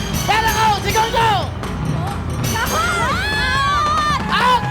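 A game-show studio audience in the Philippines shouts loudly in unison, bursts of many voices chanting and yelling together, with a host's amplified voice among them and brief lulls between the crowd's roars.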